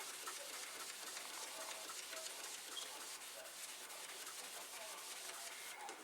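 A Magic Eraser sponge rubs steadily back and forth over the plastic case of a Commodore 1541 disk drive, a faint, continuous close-up scrubbing hiss with no talking.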